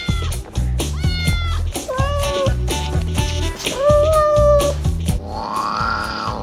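Pet cats meow repeatedly in clear, drawn-out calls that rise and bend in pitch, close and fairly loud, with a few tapping sounds and some voices in the background.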